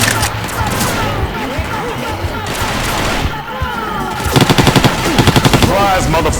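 Sustained automatic gunfire and rapid shots from a Left 4 Dead 2 swamp fever match, dense and loud throughout, turning into sharp rhythmic bursts near the end amid chaotic game effects.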